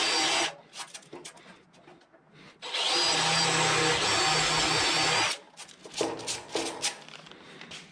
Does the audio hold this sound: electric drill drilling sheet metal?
yes